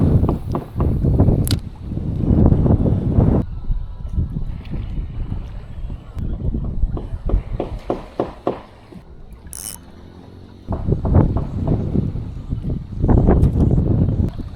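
Strong gusty wind buffets the microphone outdoors at a fishing spot, rumbling in loud surging waves with brief lulls between them.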